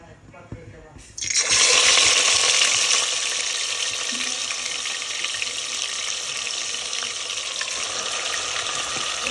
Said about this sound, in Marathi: आता तेल गरम झाले तर आपण चिकनचे पीस त्याच्यात टाकूया